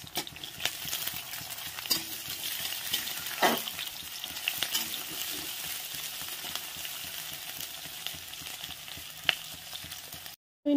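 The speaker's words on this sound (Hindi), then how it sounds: "पियाज तारपरे दमा पियाज तो ठीक अच्छे ऐसे पियाज के भाजी दो" Onions fry in hot oil with dried chili, giving a continuous close sizzle with occasional scraping stirs and light clinks, with no voices over it.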